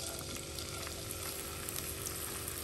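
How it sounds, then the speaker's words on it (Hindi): Finely chopped onion frying in two tablespoons of oil in a pan for paneer butter masala, a close, steady sizzling crackle that holds evenly with no talk. "अब ये 2 टेबलस्पून ऑयल डाला मैंने, इसमें 1 ये बारीक कटी हुई प्याज डालेंगे"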